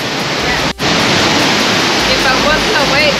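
A waterfall in Ubud, Bali gives a loud, steady broadband roar of falling water that fills the whole clip, with a very brief dip near the start and faint higher whistles toward the end.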